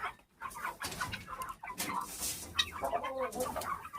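Several chickens and guinea fowl cluck and call close by in a busy, irregular chorus, with soft farmyard background noise.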